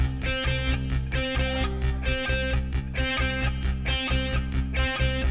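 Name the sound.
song played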